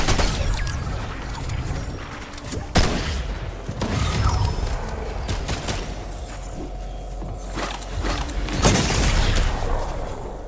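An SMG fires in a Fortnite battle royale match, with rapid bursts of gunfire and sharp impact cracks scattered over busy, loud game noise throughout.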